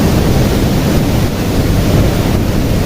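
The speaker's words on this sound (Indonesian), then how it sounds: "Menggunjam deras ke kolamnya dengan suara yang menggelegar." Kedung Kayang waterfall, roughly 40 meters tall, pounding into its pool below: a loud, steady broadband roar of crashing water heard up close, with wind buffeting the microphone and no voices.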